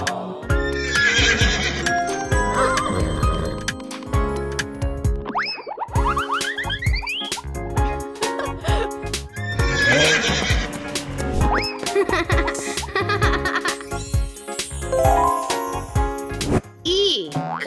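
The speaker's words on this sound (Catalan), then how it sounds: "Cavall i carruatge" Horse and carriage with a horse whinnying loudly and hooves clip-clopping, mixed with springy boings, jingling bells and bright music in a cartoon-style scene, the neighs rising and falling in repeated bursts.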